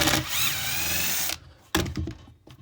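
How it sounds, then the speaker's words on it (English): A power drill backs a screw out of a pilot hole in a wooden nuc box: a loud whirring burst of about a second, followed by brief clattering knocks. "You know, you've got some pilot holes, and just backing a screw out."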